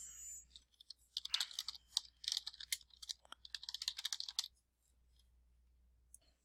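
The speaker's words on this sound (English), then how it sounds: "So now I'm going to click login so I can log into myHeartland." A computer keyboard is typed on and clicked while logging into a website, with quick bursts of clattering keystrokes at moderate closeness, then a brief quiet stretch with a faint click near the end.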